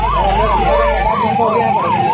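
A wailing ambulance siren, caught in a traffic jam, rises and falls in a loud, regular two-tone cycle close by, with a deep engine drone underneath during the first half.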